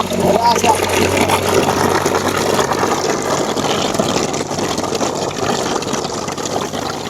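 A motor-driven water pump drains a small village pond, holding a steady droning hum with gushing water throughout, while people talk over it.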